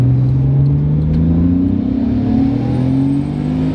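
A Nissan R32 GTR engine revs under way, with a loud, steady mid-pitched drone that climbs slowly in pitch as the car accelerates. No one speaks.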